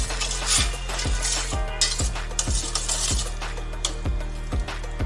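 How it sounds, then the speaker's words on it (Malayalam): A utensil stirs boiled green papaya in a pan, giving a steady series of close, rhythmic metallic scrapes and clinks at about two per second with no talking. "ഈ വേവിച്ചെടുത്ത പപ്പായ ഇട്ട് കൊടുക്കാം. നന്നായി ഇളക്കി യോജിപ്പിക്കാം."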